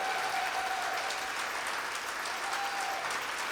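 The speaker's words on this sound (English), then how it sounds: "a round of applause, please." An audience at a storytelling festival applauds, a thick, even wash of clapping that holds steady throughout without pause.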